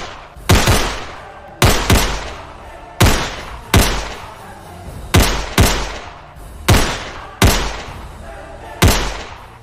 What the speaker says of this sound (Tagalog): Pinaputukan nila yon ng mga baril hanggang sa maubos na ang mga bala ng kanilang mga pistola